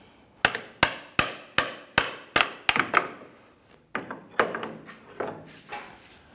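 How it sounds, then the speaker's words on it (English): Hammer blows tapping out the ball joint on an Audi Q5 front lower control arm, a run of sharp metallic strikes at a steady pace, then a looser cluster of lighter taps, close and clear. "Tap out the ball joint."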